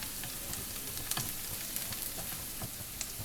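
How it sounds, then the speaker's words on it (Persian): Chopped onions sizzle and crackle steadily in hot oil, close up, with occasional louder pops and spatters throughout. "روغن تفت میدم"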